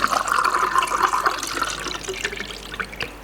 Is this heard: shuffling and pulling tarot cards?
no